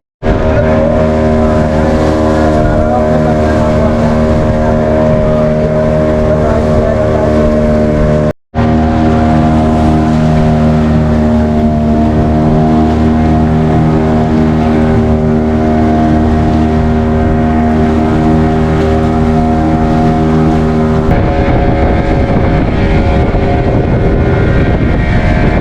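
A boat's engine drones loudly and steadily across the open sea near Lakshadweep toward Kalpeni island, a close, harmonic motor hum with wind rush, briefly cut off once before resuming and shifting to rougher wind noise near the end.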